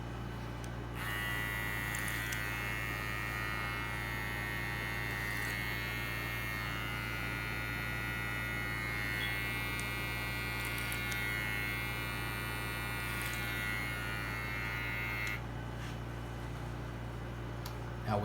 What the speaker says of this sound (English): Touch my clipper on the end here, just so I can kind of get it stabilized